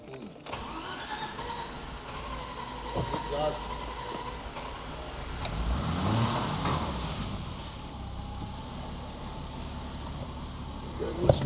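A car engine rebuilt in Africa runs during a test drive, a steady mid-pitched drone that swells slightly midway, with voices talking over it and a sharp knock near the end.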